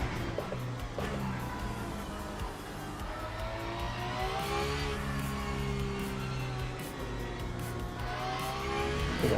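Hypercars race at Interlagos in the Le Mans Ultimate sim, a steady, loud multi-engine drone with rising and falling revs as several cars run close together, continuous through the whole stretch.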